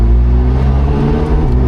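A Koenigsegg Jesko Attack revs hard on the Monticello Motor Club track, its engine a loud, steady, harmonically rich drone held close for the whole moment, with no talking.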